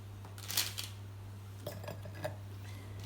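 Coconut cookies set down on a dish, giving a few soft, light clinks and taps against the plate over a low steady hum, quiet and close.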